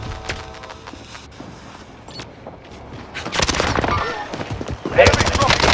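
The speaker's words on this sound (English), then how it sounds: "Bastard's trying to shoot me." Gunfire in Call of Duty: Modern Warfare, scattered shots at first, then dense automatic bursts growing louder and closer toward the end, with voices heard under the shooting.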